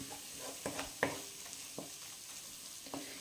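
Spices frying in a pan with a utensil stirring them, heard as a quiet, steady sizzle broken by a few sharp scraping clicks of the spoon against the pan.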